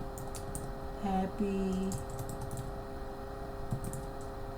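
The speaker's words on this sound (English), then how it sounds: "I am going to type in" Typing on a computer keyboard as text is entered in a design program, with soft, sparse key clicks at a close distance, a brief hum and a spoken word passing over them.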